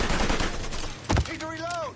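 Gunfire during a Mafia 3 shootout: a dense rattle of shots, then one loud close blast, with a voice shouting over the noise.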